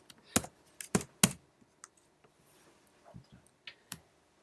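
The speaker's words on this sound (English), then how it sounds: "if I start typing into this window" Keystrokes on a computer keyboard while entering text into a Microsoft Word window: a few sharp, close clicks in a quick cluster, then sparser, softer taps, with no talking.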